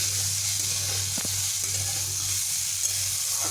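Bitter gourd and pumpkin fry steadily in a pan, giving a constant close hiss of sizzling oil with a low hum beneath and a couple of brief utensil scrapes.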